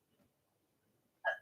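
A single sharp sneeze bursts out loud and close at the very end, after a second of near-silence with only faint low murmuring.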